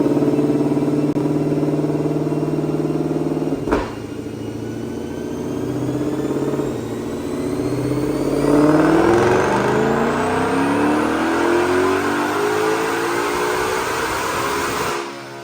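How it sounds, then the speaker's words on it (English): A 2022 Shelby GT500 with supercharger pulley, cold air intake, injectors and throttle body, running 93 octane on a dyno. The loud, rising engine roar climbs steadily in pitch over a sustained pull, then cuts off abruptly at the end. "check out this dyno pull"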